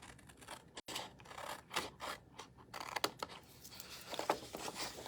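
Scissors cut pieces off a paper gift card holder, with close, quiet snips and rustling scrapes of the card repeating irregularly, and a brief silent gap early on.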